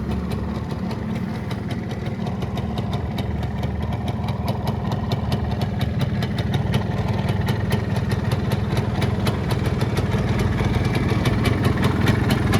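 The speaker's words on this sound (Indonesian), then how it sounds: "Ini suara mesinnya." A 1975 Yamaha RS 100 Super motorcycle engine idling steadily and close by, with a continuous rapid two-stroke putter and a slight mechanical clatter, no talking.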